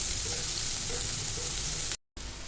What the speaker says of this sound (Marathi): आपले तेल छान गरम झाले तर यामध्ये जिरे मोहरी कढीपत्ता बारीक चिरलेला कांदा घालून छान भाजून घ्यायचा आहे